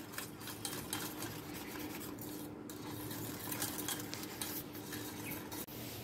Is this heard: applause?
no